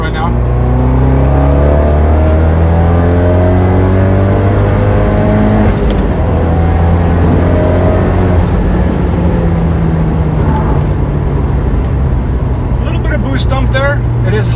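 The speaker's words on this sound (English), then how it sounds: "just doing like simple third gear pulls, a little bit of fourth" Turbocharged Fiat 124 Spider pulling hard in third gear, engine note climbing in rising sweeps of revs with a gear change midway, loud and close from inside the car, with someone talking over it.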